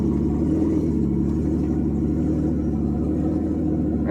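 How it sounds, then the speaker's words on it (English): A 1992 Mercedes 600SEL barn find idles steadily with air leaks, its deep, loud rumble close by and unbroken, the idle wavering slightly throughout with no talk. "because of some air leaks, we have some idle fluctuation"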